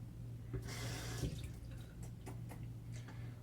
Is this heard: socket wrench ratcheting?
no